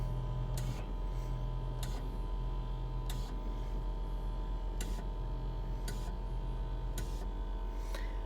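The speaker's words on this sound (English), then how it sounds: "Dude, I can't tell you how quiet this compressor really is." An Accuair ENDO-CVT air suspension compressor airing up a car, running as a low, steady hum under a series of sharp, regular ticks roughly every second, faint and close.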